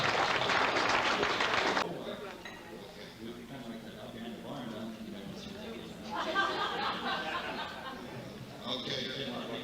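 An audience breaks into warm applause and cheering, loud at first then thinning to scattered claps and chatter before a second swell of clapping near the end.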